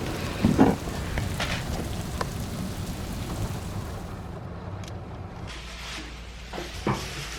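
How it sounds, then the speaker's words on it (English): Rain starting to fall outdoors at a roadside campsite during a road trip toward Yellowstone, a steady broadband patter with a few louder knocks and thuds near the start and end, no voices. "it starts raining"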